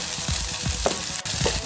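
Chopped garlic and ginger fry in a pan, giving a continuous near sizzle with rhythmic scraping stirs about every quarter second and one short clatter, with no talk.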